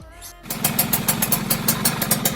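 A motorcycle engine starts and settles into a low idle during a test run after fitting a flow optimizer, a close steady rumble with a rhythmic pulsing beat, no talking.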